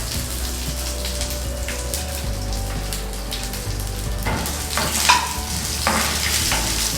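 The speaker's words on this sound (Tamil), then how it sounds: "வேர்க்கடலை, முந்திரி பருப்பு எல்லாத்தையும் போட்டு கொஞ்சம் ஸ்லோ ஹீட்டில் வச்சு பண்ணுறோம் நம்ம இதை." Peanuts and cashews frying in hot oil over slow heat, a continuous close crackling sizzle with occasional scraping stirs of a spoon through the pan.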